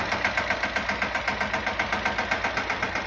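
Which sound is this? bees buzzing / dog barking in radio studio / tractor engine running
tractor engine running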